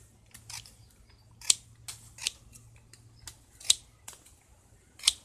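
Spring-loaded pruning shears, about two years old, snip a soft branch roughly as thick as a little finger near the node, giving a string of crisp, close metallic clicks and snaps at an uneven pace.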